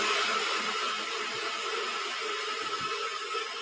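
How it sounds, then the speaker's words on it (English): Close and constant, a kitchen blender grinds dates and sunflower seeds for a blueberry vinaigrette, its motor whine holding steady with slight wobbles toward the end and no voices. "So I'm going to blend this up super fast."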